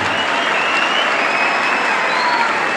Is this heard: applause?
yes